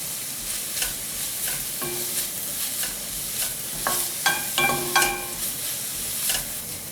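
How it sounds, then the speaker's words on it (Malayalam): Curry leaves sautéing in a pan for a coconut-milk chicken curry, a crackling sizzle with repeated spatula scrapes and sharp clinks growing busier toward the end, no voices. "ഇതുകൂടി ഒന്ന് വഴറ്റിയെടുക്കാം. ഇതിലേക്ക് കരിയാപ്പിലയും ചേർക്കാം."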